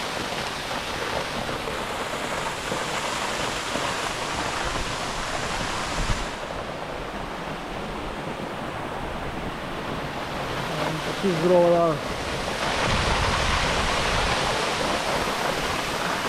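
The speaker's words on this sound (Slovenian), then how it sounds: "Slap še enkrat z druge razgledne točke, da se ga pa vidite celoti. Res pada z ogromno pečino." A waterfall drops over a huge cliff in central Istria with a steady, full rushing roar that continues throughout, and a voice speaks briefly partway through.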